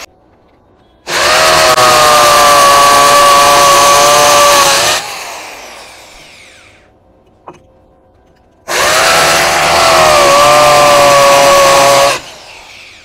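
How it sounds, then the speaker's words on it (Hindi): A BUILDSKILL 650W drill machine boring into brick, two long loud whining bursts of the motor, each winding down afterward, with a brief knock in the quiet gap between them. "एक्सपेक्ट से कहीं ज़्यादा फास्ट ये आपका ड्रिल मशीन जो कि ड्रिल किया अभी मैंने"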